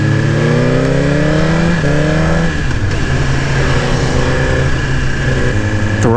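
A 2018 Suzuki GSX-R1000R engine revs hard on a demo ride, loud and close, its pitch climbing in smooth sweeps, dropping briefly between gear changes, then rising again over steady wind rush.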